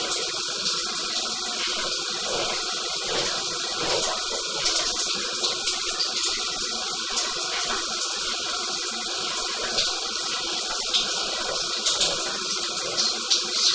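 Water flows steadily through an underwater section of a sewer pipe during a camera scope inspection, producing a continuous rushing, gurgling wash with no breaks and no voices.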